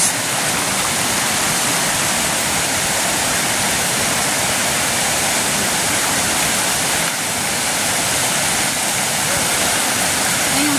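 Strong floodwater rushes past in a loud, unbroken roar of churning water that stays dense and constant throughout, with a faint voice beneath it.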